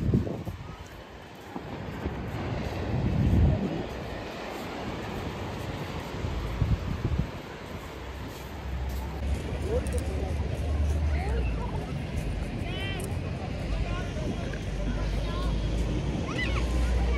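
Sea waves wash onto a beach at a river mouth, a broad continuous roar with wind buffeting the microphone, while voices talk intermittently over the surf.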